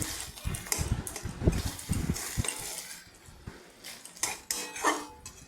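A spoon clatters and scrapes against a pan while pointed gourd is stirred with lemon leaves, curry leaves and green chili, giving close, irregular metallic knocks and scrapes with no one talking.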